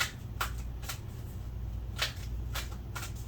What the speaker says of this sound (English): Lots of good shuffles in there.